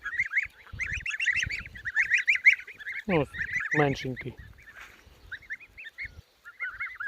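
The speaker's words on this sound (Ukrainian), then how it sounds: "Ось, наприклад, гусяра." Geese honking in a farmyard, a run of repeated nasal calls close by, with someone speaking briefly in between.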